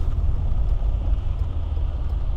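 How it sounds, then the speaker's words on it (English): A car cruises on a higher-speed road, producing a steady low rumble of engine and road noise, close and continuous. "This car is about to get awfully loud."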